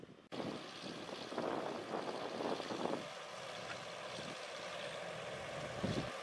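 A Solis 75 tractor and a Massey Ferguson MF 275 cut through waterlogged soil in a farm field, their engines giving a steady, fairly loud drone that rises briefly near the start and holds on without speech.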